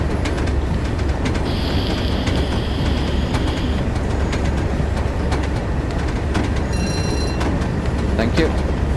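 A train braking and slowing down in Train Sim World on the Tees Valley Line: a steady rumble of rolling wheels and rail noise with clicks and a brief high electronic tone, while someone talks over it.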